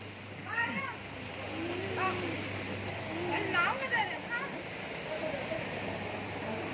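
Soft, steady rain patters in the background while faint voices and a few high chirps come and go.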